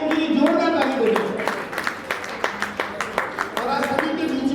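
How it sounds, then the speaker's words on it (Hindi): An audience at a Giants Group of Jodhpur swearing-in ceremony breaks into rapid clapping, a crowd of hands patting under and between a man's amplified speech from the stage. "उनके लिए भी कहूंगा एक बार जोरदार ताली बजाएं"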